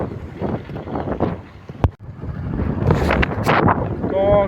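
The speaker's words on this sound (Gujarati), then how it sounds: "પવન એટલો બધો આવે છે એટલે અવાજ લગભગ આવશે એની અંદર વિડીયોની અંદર" Strong wind buffets the microphone in a cotton field, low rumbling gusts rising and falling loudly and close, with a brief sharp knock partway through, while someone talks over it.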